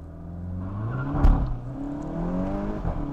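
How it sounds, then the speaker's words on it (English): A 2023 Volkswagen Golf GTI 40th Anniversary Edition launching at full throttle without launch control, engine rising in pitch with a sharp burst and possible brief tire scrabble, then pulling steadily, close and fairly loud. "Just full throttle,"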